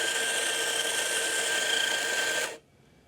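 An ECM S-Automatik espresso coffee grinder grinds a timed double dose, a steady close high-pitched whir that holds evenly for about two and a half seconds and then cuts off abruptly into near silence.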